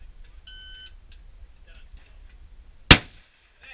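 A shot timer at an outdoor gun match gives a short electronic start beep, followed moments later by a single sharp, loud gunshot crack that decays quickly into quiet.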